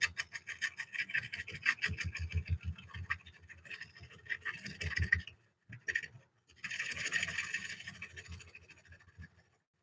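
Gouge cutting a wooden bowl on a lathe, giving close, rhythmic scraping rasps in uneven bursts with brief pauses between passes.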